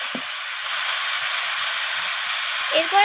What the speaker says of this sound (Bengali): ফুলকপিটা দেওয়ার পর সব কিছু সবজি এইভাবে কষিয়ে নিতে হবে ভালো করে।